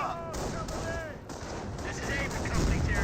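Battle gunfire in the Company of Heroes strategy game, scattered rifle shots and bursts popping over a rumbling war backdrop, moderately loud, with a heavier blast toward the end.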